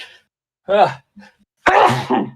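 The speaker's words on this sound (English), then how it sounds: "I've got another sneeze coming." A person sneezes, a sudden loud burst after a few short breathy sounds.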